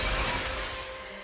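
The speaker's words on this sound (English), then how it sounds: "The core shatters and the rupture regenerative process ceases" A glassy core shattering in the video game Nikke, a burst of breaking crystal that is loudest at the start and stays dense and bright before thinning out slightly over just over a second, with no voices.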